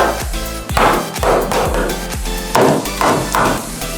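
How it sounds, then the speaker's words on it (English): A hammer drives nails into a pocket door header, about eight solid, evenly paced blows ringing loud and near with no talking. "So I'll just finish nailing up the header"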